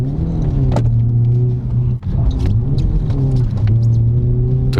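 A BMW E36 drift car sliding sideways on a track, its engine droning steadily with a wavering, rising and falling pitch, loud and close, with a brief dip midway.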